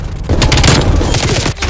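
A hostile sentry turret in Call of Duty: Black Ops Cold War fires rapid bursts of automatic gunfire, loud and close, with dense overlapping shots rattling over a low rumble for the whole short stretch.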